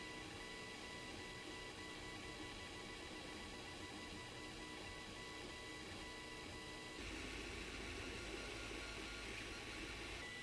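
A 3D printer lays down its second layer, giving a steady mechanical whir with stepper-motor tones that holds throughout, growing louder and busier near the end with a low rumble added.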